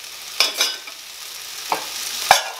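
Sliced bell peppers for vegetarian fajitas cooking in a pan over high heat, a soft steady sizzle broken by a few sharp scraping stirs, with no voice over it.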